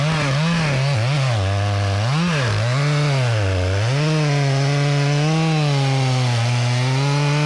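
A chainsaw cuts around the trunk while felling a big, stringy cottonwood tree, loud and close, its engine pitch rising and dipping continuously as the bar works through the wood.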